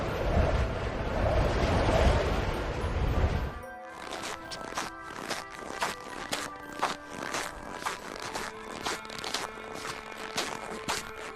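Footsteps crunch and creak through snow in a steady walking rhythm, close and distinct, following a short stretch of wind noise.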